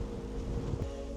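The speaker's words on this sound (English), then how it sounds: "Windy." Wind buffets a cyclist riding in winter rain, a low steady rumble with a faint hum, brief and moderately quiet.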